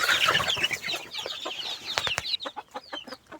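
A hen on a poultry farm clucks in quick, close repeated bursts, loud and dense at first, then thinning to spaced single clucks.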